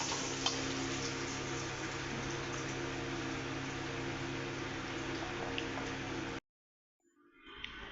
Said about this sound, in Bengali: এইগুলো আমি এবার ফ্রাই করব।